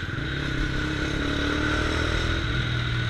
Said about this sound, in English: I like to blip my throttle on this new DB Killers, dude. This sounds so good.